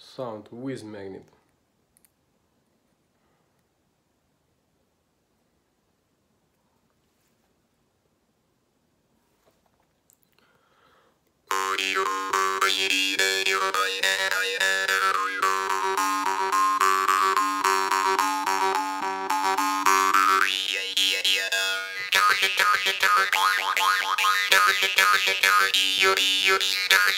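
A jaw harp played with a magnet, after a brief twang and a long silence, launches into a loud, sustained twanging buzz with sweeping overtones imitating an airplane, close and continuous to the end.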